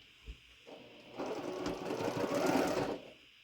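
A sewing machine stitches quilt pieces together for a star quilt, starting with a brief tap and then running in a steady, close, fairly loud whir for about two seconds before stopping.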